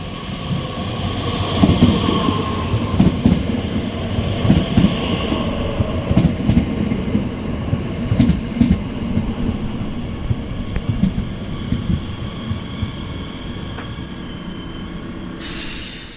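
A former ÖBB Talent 3 electric multiple unit arrives in Baden-Württemberg, with a loud, sustained rumble of wheels on rails, clickety-clack joints and faint squealing, close by and steady throughout.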